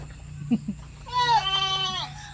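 A goat bleats loudly and close by in a wavering call, after a couple of short soft sounds, over a steady background hum.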